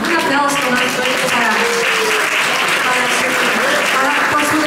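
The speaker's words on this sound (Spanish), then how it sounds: "Un aplauso más fuerte" Loud, continuous applause from a concert audience at a Christmas concert fills the whole stretch, a dense patter of many hands clapping close by and without letup.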